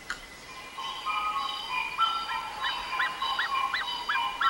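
A swan gives a run of repeated nasal honks that grow steadier and more rhythmic over a noisy background, with no talk.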